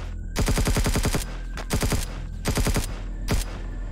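Automatic gunfire in Empyrion Galactic Survival, loud rapid bursts of evenly spaced shots separated by short pauses, heard close and without talk.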